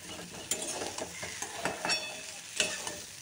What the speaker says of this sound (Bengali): তো সয়াবিন ভাজা হয়ে গেছে